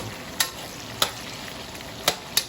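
Onion and garlic sautéing in a pan for a mung bean stew, a soft continuous sizzle with four sharp clicks of a utensil against the pan, no voices.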